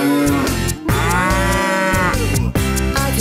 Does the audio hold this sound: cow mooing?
yes